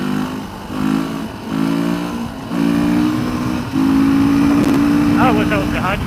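Ducati motorcycle riding offroad, engine repeatedly revving up through gears to fifth with rising, loud close-up pulls separated by brief dips, someone talking over the engine noise.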